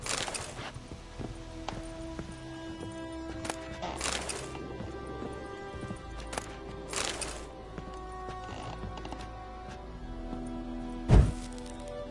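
Roach, a horse in The Witcher 3: Wild Hunt, with hooves clopping and thudding in scattered bursts over a game soundtrack and ambient hum, plus a sharp low thump near the end.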